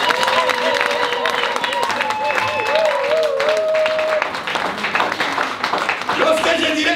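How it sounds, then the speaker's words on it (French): A church congregation at a bishop's service in Switzerland claps and acclaims loudly, a dense steady roar of applause and cheering with voices rising over it throughout. "J'ai dit acclamons très fort le Seigneur."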